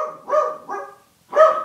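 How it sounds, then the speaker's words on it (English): A dog barks three times, loud and close: two quick barks, a short pause, then a final bark, with no other sound. "Now my fucking dog's going crazy."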